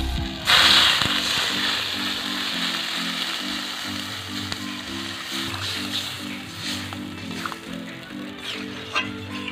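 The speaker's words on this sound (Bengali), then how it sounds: "এবার আমি জল দিয়ে দিচ্ছি।" Water poured into a hot pan of fried potato and eggplant on a village kitchen stove, a sharp hiss and splash at the start settling into steady bubbling and sizzling over a low rhythmic hum.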